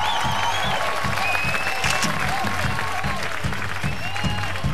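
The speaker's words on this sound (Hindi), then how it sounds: "तालियां।" A TV show audience applauds loudly and steadily for several seconds, while rhythmic background music plays under the clapping.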